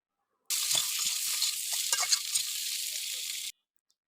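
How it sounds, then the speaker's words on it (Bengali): Boiled gadi kochu (taro) frying in oil over medium heat after a dried-chili tempering gives a steady, close sizzle lasting about three seconds, then stopping abruptly; no voices. "মিনিটের মতো মিডিয়াম আঁচে ভেজে নিব"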